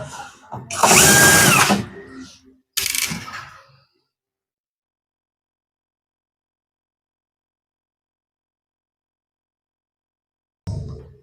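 A power drill backs screws out of an air fryer in two close, loud bursts, the first longer than the second, followed by silence and a short thump at the end.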